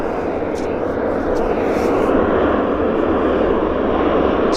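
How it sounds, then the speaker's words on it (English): A WestJet 737 bound for Cabo rolls down the runway for takeoff at Vancouver airport, a steady, loud broadband engine roar holding constant throughout with a faint voice in the background. "we'll probably be able to see the takeoff because it is rolling right now"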